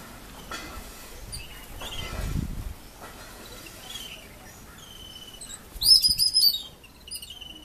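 Yellow-billed Babblers call in Sri Lanka, giving short chirps with a louder burst of chattering near the end over a quiet background of insects.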